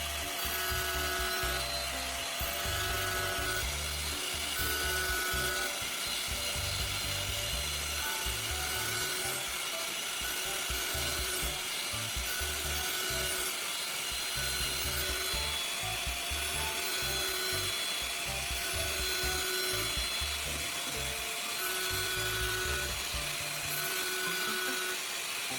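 A dull kitchen knife drawn along a sharpening stone from heel to tip while holding a consistent angle, giving steady, repeated rasping strokes at close range that continue throughout without talk.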